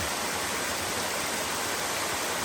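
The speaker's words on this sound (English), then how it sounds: "got a great waterfall" A large waterfall on a backpacking trail gives off a dense, continuous roar of rushing water, loud and unbroken from start to end.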